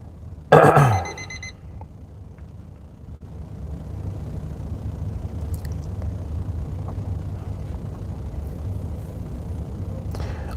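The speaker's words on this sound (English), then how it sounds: "Did the alarm go off?" A short, loud electronic alarm tone sounds near the start, then fades into a low, steady rumble that continues to the end.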